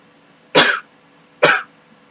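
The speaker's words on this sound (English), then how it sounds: "I really do need to cough." Two separate loud, close coughs about a second apart, each short and harsh with a throaty rasp, with quiet between them and no talking.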